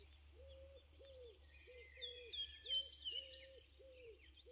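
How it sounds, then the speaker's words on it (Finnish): Pigeons give a run of repeated low cooing calls at a steady rhythm in a Finnish garden on a mildly rainy evening, with smaller birds chirping and trilling higher over the top and a constant low hum beneath. "pulut huutelee."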